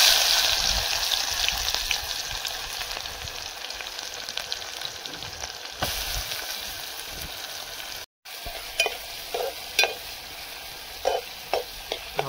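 Onion and garlic frying and sizzling in a pan, a steady close hiss with occasional stirring scrapes and clinks, with a brief dropout near the end.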